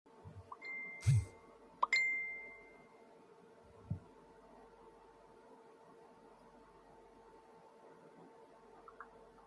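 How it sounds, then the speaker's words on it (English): Phone notification ding, two short bright chimes close together near the start, followed by a faint thump and quiet room tone. "Sorry about me hearing that ding noise."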